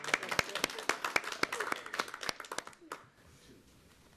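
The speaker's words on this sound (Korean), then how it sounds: "대단한 박수 한번 주시죠" Clapping at a horse-racing media day after a jockey's interview: a brisk burst of sharp, close claps that thins out and stops about three seconds in, leaving near silence.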